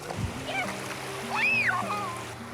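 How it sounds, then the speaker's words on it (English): Water splashes at a beach with a small burst of splatter, then a gentle sloshing wash, while someone speaks and a bird-like chirping rises over the top. "We like splashing in the water."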